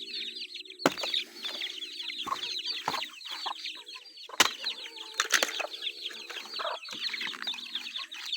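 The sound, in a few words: chickens clucking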